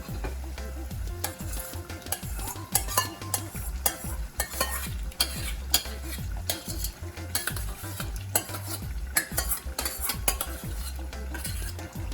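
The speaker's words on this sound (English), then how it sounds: "I'm going to go ahead and place my marinara sauce into my ground beef here while it's still cooking" Ground beef and marinara sauce cook in a pan for lasagna, with constant rhythmic scraping and clinking of a utensil stirring over a low bubbling sizzle.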